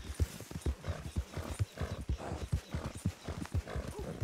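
Horse trotting in Red Dead Redemption 2, a steady rhythmic clip-clop of hooves close up and fairly loud across the whole stretch, with a faint snort or whinny mixed in.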